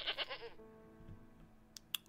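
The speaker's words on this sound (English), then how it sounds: "So there's one goat up there." A goat bleats in the TerraFirmaCraft Minecraft mod, two quick wavering calls at the start, followed by quiet game ambience and a couple of brief sharp clicks.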